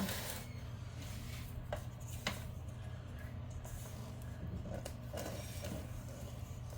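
A spatula scraping chocolate chip cookie dough off hand mixer beaters, faint rubbing and rasping strokes with a few small clicks over a low steady hum.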